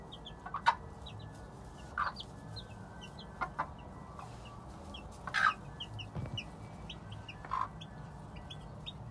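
An older hen of a game chicken breed clucks in short, scattered bursts over a steady farmyard background, with faint chirps of small birds in the distance.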